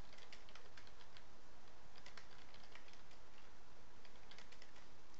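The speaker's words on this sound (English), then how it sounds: "type a message" Steady typing on a computer keyboard, quick irregular key clicks close up over a constant hiss, with no voice.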